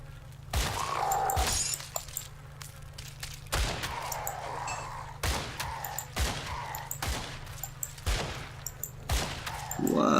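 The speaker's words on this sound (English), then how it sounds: "Whoa, nice shooting." Gunfire from the video game Grim Dawn: loud, sharp shots with a shattering crack, fired in separate bursts about once a second over a steady low hum, with no talking.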